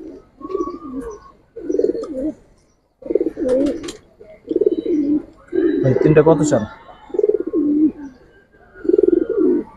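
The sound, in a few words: pigeons cooing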